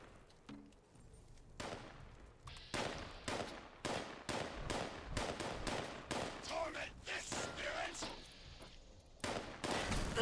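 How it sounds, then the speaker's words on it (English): Grenade blasts and gunfire in the post-apocalyptic game Fallout 76: a rapid series of sharp, close shots and bursts, irregular and dense, with brief pauses between clusters. "Stop throwing grenades"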